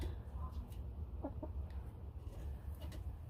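A backyard chicken in an urban neighborhood gives a few soft, distant clucks, faint against low background hum and murmur.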